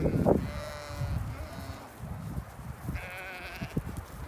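Dairy sheep bleat on a farm: a couple of drawn-out, wavering bleats, one early and one later, moderately close over rustling, shuffling and general barnyard noise.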